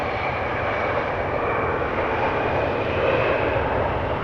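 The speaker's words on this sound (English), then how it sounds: "Thought I heard a GE90 engine" A steady, broad jet engine roar from a GE90 engine starting at Amsterdam Schiphol Airport, distant and constant throughout, with no voices and little change in pitch.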